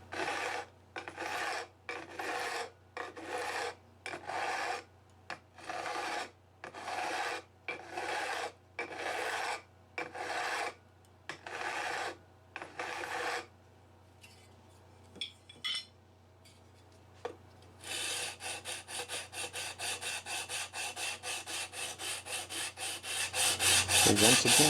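Rhythmic back-and-forth rasping of a G&L guitar's bone nut bottom being sanded on oiled 2500 grit sandpaper, about a dozen close strokes with short gaps, then a steadier rapid scrubbing that grows louder toward the end.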